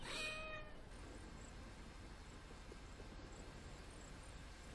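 A single short cat meow from a video game at the very start, then a steady quiet hum with faint high tones for the rest.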